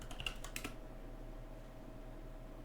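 Typing on the keyboard of an SGI Indy workstation: a short quick burst of key clicks close by, then a steady low hum with no further keystrokes.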